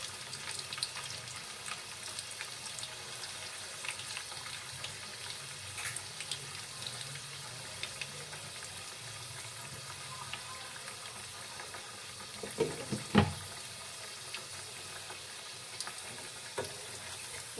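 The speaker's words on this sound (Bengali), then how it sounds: "দেখতে পাচ্ছ কত মোটা করে কেটেছি, একদম পুরোপুরি ফ্রাই হয়ে যাবে আমার আলুগুলো।" Thick-cut potatoes coated with turmeric and salt frying in a pan, a soft continuous sizzle at low volume with occasional faint clinks and stirring.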